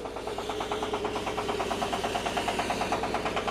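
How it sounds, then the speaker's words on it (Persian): A machine runs loudly and steadily inside a workshop, a continuous mechanical drone with a fast, even pulsing rhythm, heard close with no talk over it. "صدای خود ماشین کم نمیشه دیگه"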